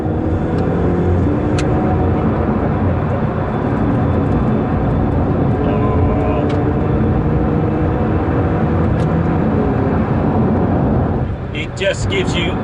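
A Ferrari 488 Pista driven hard on the road, a loud continuous engine roar heard from the cabin with deep rumbling and shifting tones, and a brief crackle near the end.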